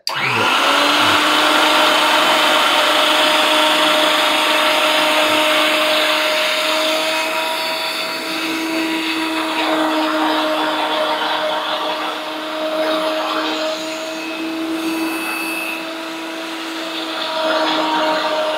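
Golden Associates 9-in-1 all-in-one food machine mixer running continuously, a loud, steady motor whine with a slight drop in pitch and level midway, no talking.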